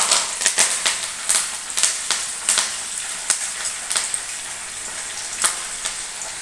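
Peanuts, cumin seeds, chana dal, urad dal and curry leaves frying in hot oil for lemon rice, a steady close sizzle with sharp popping crackles scattered throughout.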